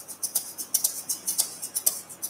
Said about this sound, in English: this is the sound of an egg shaker.